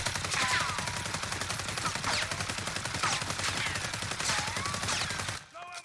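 AUG rifle hip-fire in the video game Warzone: a continuous, rapid automatic burst with an even rhythm of loud, close shots lasting several seconds, cutting off abruptly near the end.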